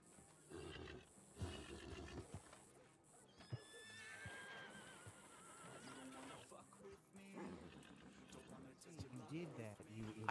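Horse in the video game Red Dead Redemption 2 whinnies among hoofbeats and game ambience, and a voice talks over much of the scene.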